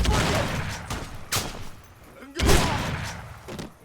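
Shotgun blasts in the first-person shooter Crysis, two heavy booming reports about a second apart with a decaying rumble after each, amid other scattered shots and a low background drone.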